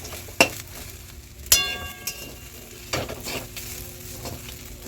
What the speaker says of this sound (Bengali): ওপর থেকে কারি পাতাগুলো দিয়ে একটু নাড়িয়ে নেবো